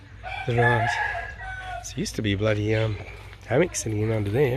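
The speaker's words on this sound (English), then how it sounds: "So the roosters at all hours of the morning," A rooster crows in the background at a rural Thai property while someone talks continuously over it.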